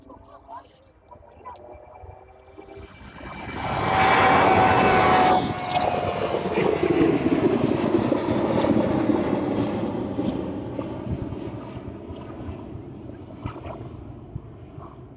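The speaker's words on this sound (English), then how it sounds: "Our next aircraft out should be the Jet2. Jet2 service off to Krakow." Jet2 passenger jet taking off from East Midlands Airport, bound for Krakow: a loud, rising engine roar surges in and builds to a sustained powerful rumble and whine, then slowly recedes as the aircraft climbs away.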